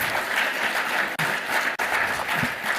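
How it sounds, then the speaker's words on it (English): An audience at a climate conference panel applauds, a dense, steady wash of many hands clapping that holds at an even level, broken by two brief drops. "A round of applause for everybody."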